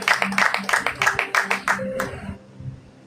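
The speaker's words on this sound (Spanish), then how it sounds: "Den un aplauso al Señor." A church congregation claps along in a quick, steady rhythm for a couple of seconds, the beats close and bright with a murmur of voices underneath, then fading into a quiet room.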